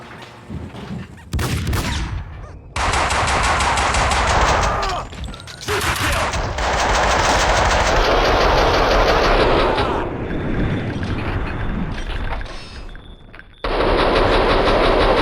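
Gunfire in the PC shooter Max Payne 2, with loud sustained bursts of automatic fire and rapid shots crashing in repeatedly over a busy game soundscape, briefly easing before erupting again.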